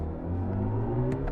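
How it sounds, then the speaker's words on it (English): Synthetic drive sound of a BMW i5 M60 electric car, designed by Hans Zimmer, a smooth rising tonal hum with layered harmonic whirs heard from inside the cabin, steady and moderately loud. "The Hans Zimmer iconic sounds just really give an emotional connection to the car immediately."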